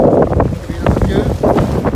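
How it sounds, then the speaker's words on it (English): Wind gusts across the open pool deck of the MSC Virtuosa cruise ship, a steady close rumbling buffet on the microphone that swells and eases over two seconds. "As the wind comes."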